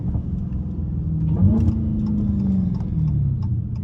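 A Hellcat SRT's engine revs loudly and up close, a deep steady rumble that climbs in pitch near the middle and holds before easing back down, with no voices over it.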